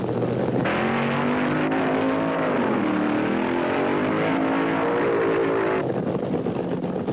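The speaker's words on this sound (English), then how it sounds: "Richard Tharp fired up Mike Burkhart's Plymouth Satellite first." A Plymouth Satellite funny car, driven by Richard Tharp at a 1975 drag racing event at Rockingham, fires up and holds a loud, rough idle that swells and dips in pitch as the throttle is blipped, up close and continuous.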